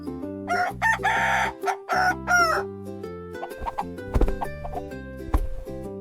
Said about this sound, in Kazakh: Бұл әтеш! Бұл әтеш!